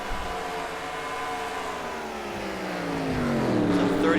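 Race cars run on the Rio track in a racing video game, a dense, steady engine drone with layered whines rising in pitch as one car accelerates and grows louder near the end.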